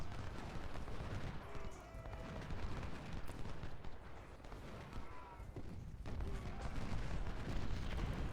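Rifle volleys from Civil War troops in a strategy battle, a dense, continuous crackle of distant musketry and low rumbling booms running throughout with no pauses.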